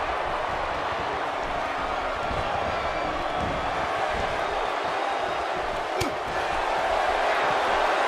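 A roaring arena crowd in the WWE 2K18 wrestling video game, a dense, constant wall of cheering and noise with a sharp slam-like hit near the middle.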